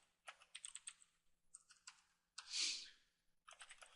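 Quiet bursts of computer keyboard typing while HTML code is entered, quick runs of key clicks broken by short pauses, with one longer keystroke in the middle, close and faint, no voices.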